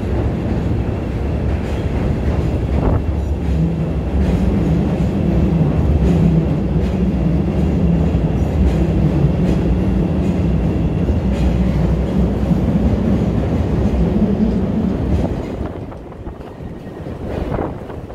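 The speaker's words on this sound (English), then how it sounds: "there's another train coming, so I'm gonna show you" A train rumbles past in downtown Chicago, a steady loud roar of rolling wagons with wind buffeting the microphone, easing off near the end as it moves away.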